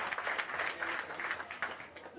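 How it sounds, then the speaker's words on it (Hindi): Audience applause at a gathering of digital volunteers in India, a brief, moderately faint patter of clapping from a roomful of people. "एक बार जोरदार ताली आप अपने इस प्रयास के लिए लगा लीजिए।"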